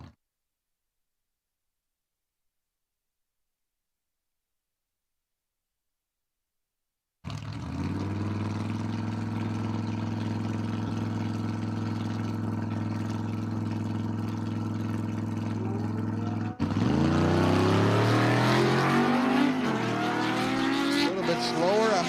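Drag racing motorcycle making a run at Empire Dragway during an outlaw event weekend, its loud sustained engine roar starting abruptly after silence, holding steady, then rising in pitch and intensity as it accelerates, with crowd and track noise around it.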